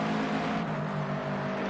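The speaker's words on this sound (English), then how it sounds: "You can hear the rev limiters on the three cars." Toyota 86 race cars in Project Cars 2 at Sportsland SUGO, engines buzzing steadily as they bounce off their rev limiters, a loud sustained multi-car drone with no talk.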